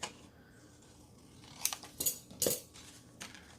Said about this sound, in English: I'm just going to cut this down